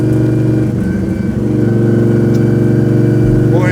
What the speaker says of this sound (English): Hearing that gear set just whining away.